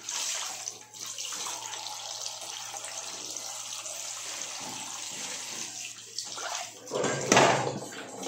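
Tap water runs steadily into a kitchen sink while dishes are washed, a continuous close splashing rush with a brief louder gush and clatter near the end.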